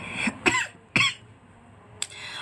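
A person gives several short dry coughs, close and sharp, about three in quick succession followed by a pause and one more, with no talking.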